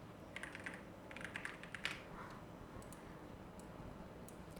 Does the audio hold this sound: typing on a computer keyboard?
yes